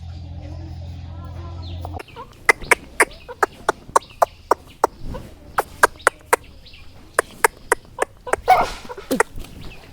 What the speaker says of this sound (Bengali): এই দেখো আমার ব্রয়লার মুরগি কত বড় হয়ে গেছে, প্রায় 3-4 কেজি হয়েছে।